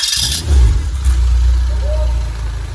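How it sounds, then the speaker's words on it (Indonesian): A car engine cranks on its starter motor and catches, then keeps running with a loud steady rumble, checked during battery voltage testing on a conventional light vehicle; a voice talks over it. "kita hidupkan mesin starter"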